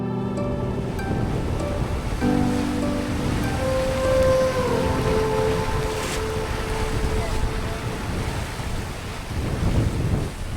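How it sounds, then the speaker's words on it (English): Rough seas rush and slap around a J99 sailboat crossing the Gulf Stream in winds in the 20s, a loud, constant roar of water and wind with heavier surges. "The wind was well into the 20s and the seas had built significantly."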